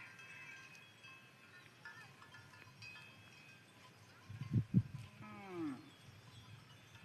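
Cattle on a farm, being driven into their pen in the evening, give a couple of low, drawn-out moos midway through a quiet outdoor background.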